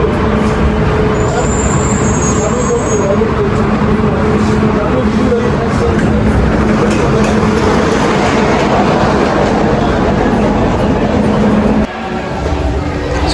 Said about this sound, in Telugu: ఇదే మన మెట్రో